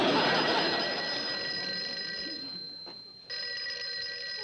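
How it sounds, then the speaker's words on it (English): An office telephone rings loudly and continuously in a conference room, a bright sustained electronic-bell tone that drops briefly near the end and then resumes. "just don't sit there. Somebody answer the phone."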